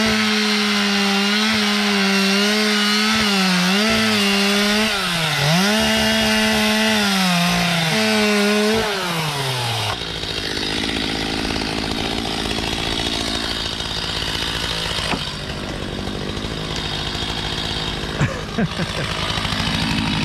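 A chainsaw roars close by while sawing a tree that has been cut but will not fall, its engine revving up and down before settling into a rougher, steady cutting drone.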